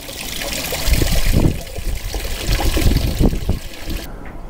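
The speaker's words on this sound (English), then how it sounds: "I've got the hose pipe running inside" Water from a hose pipe runs inside a boat, a loud, close, continuous trickling and splashing with uneven surges that cuts out near the end.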